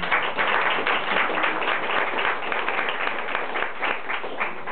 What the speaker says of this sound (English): So, a little round of applause for God.